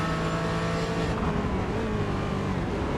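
A Porsche race car in iRacing rounding the banked Nürburgring carousel, engine droning loud and sustained under load with a slight pitch shift midway, close-up and without voices.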